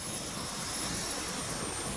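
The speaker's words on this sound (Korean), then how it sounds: "그녀의 눈앞에 있는 것은 바로 드론이라고 불리는 무선 조종 비행체였습니다" A radio-controlled drone flies nearby with a steady, even whirring drone, moderately loud and uninterrupted, in a Korean TV reenactment scene without speech.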